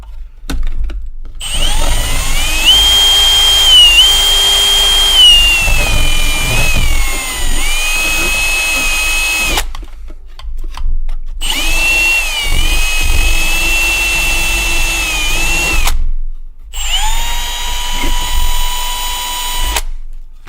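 Power drill fitted with a carbide-tipped bit runs in three long loud bursts, its motor whine steady and close, with brief gaps of silence between them.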